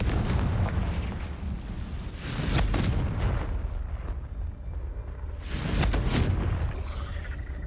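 Confringo spell blasts in the video game Hogwarts Legacy, with two heavy booming explosions rumbling loud over a dense, continuous roar of game noise.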